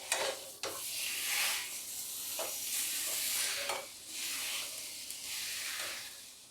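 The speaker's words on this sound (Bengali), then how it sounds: "এবার জাল দিয়ে কিছুক্ষণ নাড়াচাড়া করলে এটা সফট হয়ে যাবে" Date paste softening over heat in a pan, stirred with a spoon: a soft continuous sizzle and hiss broken by several brief scraping strokes, close and fairly quiet, with no talking.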